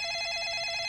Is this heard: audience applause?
no